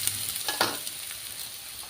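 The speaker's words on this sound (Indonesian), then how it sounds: "Iki terongnya tak goreng iki guys." Sliced eggplant fries in hot oil in a pan with a steady crackling sizzle, with a few sharper pops and spatters near the start, close and without any talking.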